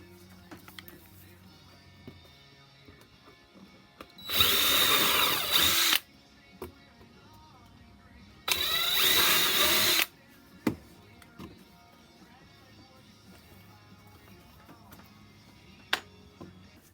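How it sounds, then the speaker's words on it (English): A power drill drives screws into a handmade wooden tree shelf. Two loud, steady whirring bursts of about two seconds each sit close up, separated by quiet pauses with small handling knocks. "Now to finish screwing this top one on."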